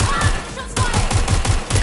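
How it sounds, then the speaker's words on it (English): Rapid bursts of gunfire from a firefight in the video game Watch Dogs Legion, loud repeated cracks in a steady fast rhythm with a brief lull partway through and faint background voices. "Shots fired!"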